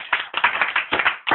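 A church congregation claps in acclamation of Jesus, a quick run of sharp, close hand claps in uneven bursts with short gaps between them.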